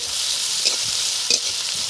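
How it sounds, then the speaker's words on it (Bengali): Dried red chillies and nigella seeds crackle in hot oil, a loud, dense, steady sizzle close up, with a couple of brief popping spikes and no voices. "শুকনো লঙ্কা কালো জিরে ফোড়নে দিলাম।"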